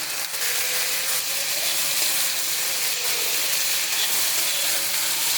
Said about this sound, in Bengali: ঝিঙাটা অল্প ফ্রাই করে নেব।